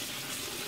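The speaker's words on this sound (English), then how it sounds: "I don't go crazy with this step, but I do give it a good solid rinse" Cooked, drained beef is rinsed in a colander under a steady, loud rush of running water from a tap, close and continuous, with no voices.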